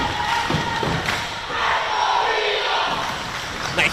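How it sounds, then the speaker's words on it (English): A crowd cheers and shouts in a gym at a high school girls' volleyball playoff game just after a service ace, a loud sustained roar with a few thumps. "Nice cheers from the crowd we're hearing."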